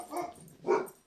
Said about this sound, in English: No, no, shut up, dogs.